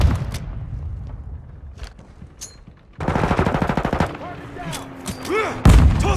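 Gunfire in the Call of Duty: Modern Warfare II video game: scattered single shots, then rapid automatic bursts and loud impacts, with game effects layered over the shooting and a heavy bang near the end.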